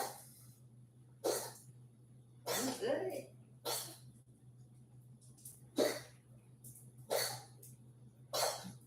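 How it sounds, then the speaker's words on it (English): A cat coughing up a hairball: a series of harsh, breathy hacking bursts repeats at irregular intervals, fairly close amid quiet background hum. "about to cough up a hairball"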